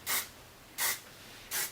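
Hairspray hisses onto curled hair in three short, close bursts with brief pauses between them.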